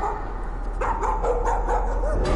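A dog barks and whimpers in the horror game Layers of Fear, a few short, close yelps and whines over a steady low game hum.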